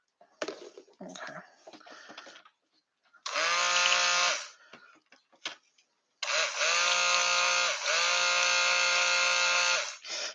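An electric mixer whirs through lye water and soap batter for a handmade vegan soap. It runs in loud, steady bursts of a few seconds each, with a short pause between them, after a brief stretch of voice and handling sounds at the start.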